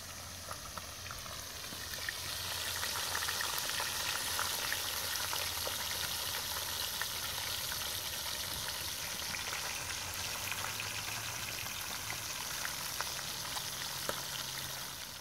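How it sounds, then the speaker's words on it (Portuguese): Fish sizzles and crackles steadily in hot oil in a pan outdoors during a fishing trip, a dense, close frying hiss that carries on without pause and without voices. "Peixinho fritando, rapaziada, aí, ó."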